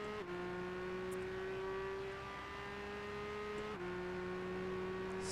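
Classic car engine in Gran Turismo 6 holding a steady, fairly quiet drone at low revs, with two brief drops in pitch as gears shift, no voices over it.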